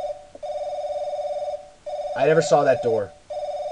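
A telephone rings insistently in the horror game Paranoiac, a steady electronic trill that breaks off briefly and resumes, with a voice talking over it in the middle.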